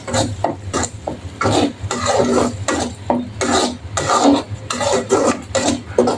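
Turmeric and chilli powder being stirred and fried in a pan for mustard-seasoned flat beans, giving a steady, close scraping and rasping rhythm of repeated strokes with no talking.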